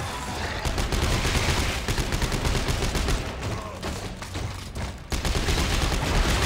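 Rapid gunfire from a gun in a sci-fi survival horror game, nearly continuous bursts of shots, loud and close, with a brief dip before resuming.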